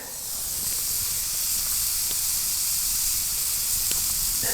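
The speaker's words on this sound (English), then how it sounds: "let's whack them on the grill plate and hear them sizzle" Meat sizzles on a hot grill plate of a portable Bitty Big Q barbecue outdoors in a forest, a steady bright hiss that rises at the start and holds close and even.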